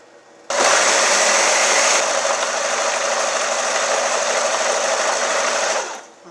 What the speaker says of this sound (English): we're going to let that blend some more